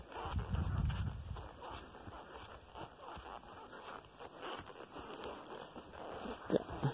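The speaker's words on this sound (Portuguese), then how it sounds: "A sensação de andar no cavalo," A horse walks along a rural track in the countryside, its hooves clip-clopping softly in a loose, steady rhythm amid outdoor ambience, with no talking.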